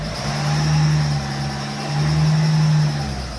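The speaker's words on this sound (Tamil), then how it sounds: "பாருங்கள், நல்லாவே ரேஸ் ஆகுது." A Ford Fiesta with a faulty accelerator revs up twice, a steady engine drone swelling louder in two long surges before settling back to idle.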